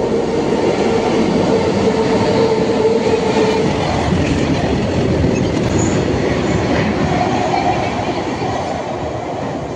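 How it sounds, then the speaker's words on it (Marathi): A Mumbai local train at a station rumbles loudly and continuously, wheels clattering on the rails with a steady heavy roar that eases slightly toward the end, with no talking. "आता आपली लोकल ट्रेन आली बघा"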